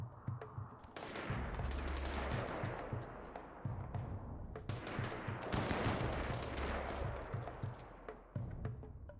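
Gunfire in the video game RimWorld rattles in long bursts, with rapid overlapping shots and low thumps that fill nearly the whole stretch and drop out only briefly between volleys.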